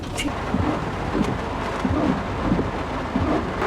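Heavy rain pours on a highway during a traffic jam on a road trip from Gwalior to Panipat, a loud, constant roar with low rumbling underneath.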